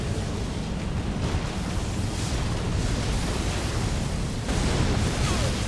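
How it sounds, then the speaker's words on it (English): A boss's double explosion attack in the video game Elden Ring, a loud, dense roar of broadband blast noise that fills the whole stretch, with a second surge near the end and no voices. "The double explosion."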